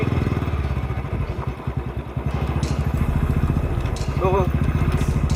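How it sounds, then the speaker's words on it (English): Steady thumping exhaust beat of a Royal Enfield Bullet motorcycle engine on a ride, loud and close throughout as a regular low pulse, with someone talking over it. "I'm riding my own bike and Chris is riding his own bike."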